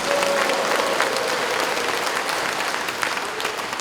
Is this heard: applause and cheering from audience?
yes